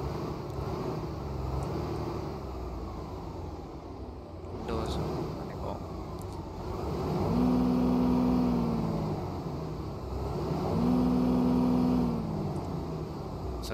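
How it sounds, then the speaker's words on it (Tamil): In the Express Drive driving game, a virtual car engine idles as it warms up, then revs in two swelling bursts that rise and fall. Someone talks over the steady engine drone throughout. "கொஞ்சம் என்ன வார்ம் பண்ணிப்போம், இன்ஜின் வார்ம் பண்ணால் கொஞ்சம் நல்லாயிருக்கும்."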